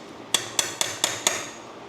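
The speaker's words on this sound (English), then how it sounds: "Just give the filter just a little love tap." A hammer taps five times on a metal filter while a T-bucket hot rod is being built. The even, sharp metallic knocks sound close, with no talk over them.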